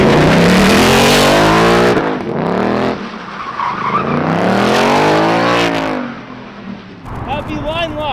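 A 2021 Ford Mustang Mach 1 roars through a line lock burnout, engine revving loudly with skidding tires squealing throughout, while voices call out over the noise.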